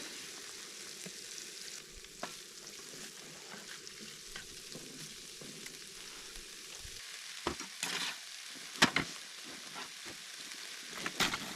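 Sausage and bacon sizzling in a pan at a winter camp inside a hot tent, a steady faint frying hiss with occasional louder crackles and spits near the end.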